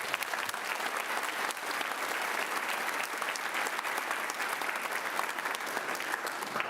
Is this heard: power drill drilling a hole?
no